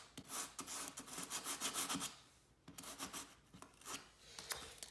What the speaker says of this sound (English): Using my sanding block